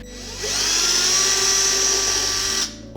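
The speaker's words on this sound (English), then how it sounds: "we will go ahead and get one pilot hole drilled" A power drill whines steadily at high speed while boring a pilot hole into the hull of an Ascend 133X fishing kayak. The sound is close and loud, runs for about two seconds, then stops abruptly, with no speech.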